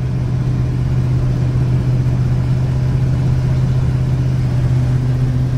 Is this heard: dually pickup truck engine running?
yes